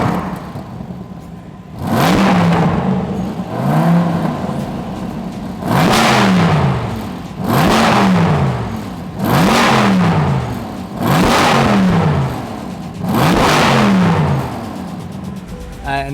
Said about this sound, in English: we also added a dual catback exhaust by AFE. The car sounds 10 times better, super aggressive and super loud